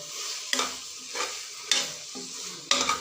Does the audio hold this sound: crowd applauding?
no